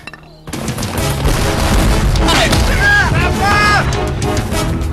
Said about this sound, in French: l'artillerie française ouvre le feu contre les lignes alliées